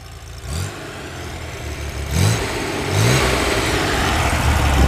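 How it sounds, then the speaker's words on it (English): A 1963 Chevrolet Corvair engine revs up several times from a rumbling idle, each rise louder and throatier, close by and unaccompanied by talk. "Give her a couple of revs there, Ed."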